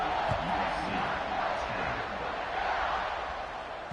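A college football stadium crowd roars in a broad, continuous wash of cheering and noise, loud and sustained, with commentators talking over it.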